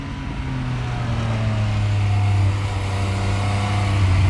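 A Triumph Speed Triple 1050 RS motorcycle riding through corners, its engine a loud, steady drone with pitch that rises and falls gently as the rider works the throttle, heard from up close alone.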